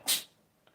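A cat gives a single short, sharp sneeze, quick and breathy, followed by near silence and a faint tiny sound.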